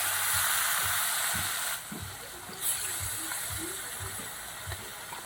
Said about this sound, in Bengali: তেল আমার গরম হয়ে গেছে। এবার আমি লাল লাল করে মাছগুলো ভেজে নেব।